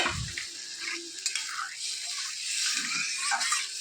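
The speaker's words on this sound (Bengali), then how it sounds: "এটা ফুটতে থাকুক, ঝোলটা আস্তে আস্তে ফুটুক" Rui fish curry gravy simmers in a pan after water is added, giving a steady, moderate bubbling hiss with faint stirring clatter throughout and a brief low thump at the start.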